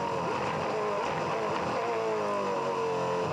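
A 2004 Supercars race car engine at Barbagallo Raceway produces a loud, sustained, high-revving drone with a shifting pitch. It sounds close and continuous, with no voices.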